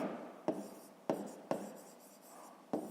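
Pen strokes on notebook paper during a fifth-grade maths exercise, heard as a soft continuous scratching broken by four sharp taps at irregular intervals, close and quiet with no talking.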